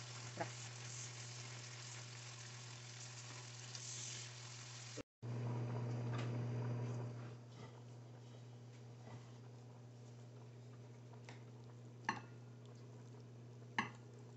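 Corn cooking in butter on a pan gives a steady soft sizzle with a low constant hum underneath and a few sharp clicks and utensil taps near the end, with no voices.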